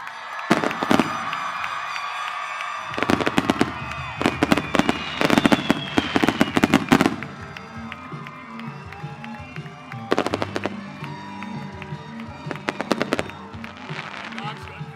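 Fireworks at a graduation commencement set off bursts of sharp crackling pops, some rapid-fire like firecrackers, in clusters with quiet gaps between them. A crowd murmurs and voices talk throughout.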